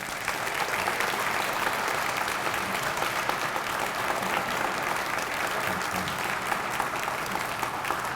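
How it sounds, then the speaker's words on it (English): Sustained audience applause at an official funding announcement for a community center, steady and dense with many hands clapping throughout, a few faint voices mixed in. "give a great round of applause for our senior senator"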